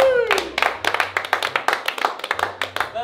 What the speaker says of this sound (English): All right, fellas, clap it up.